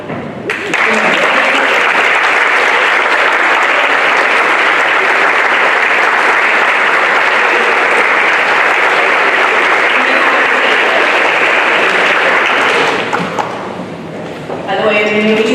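A standing audience at a college-wide gathering gives loud, sustained applause that lasts about thirteen seconds, then fades away quickly.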